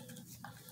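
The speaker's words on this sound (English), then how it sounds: "you stir them up good, just like that" A spoon stirs grits in a pot on the stove, a soft, brief scraping swirl heard close up, with faint kitchen background and no talking.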